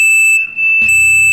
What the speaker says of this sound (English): My fucking smoke alarm just went off.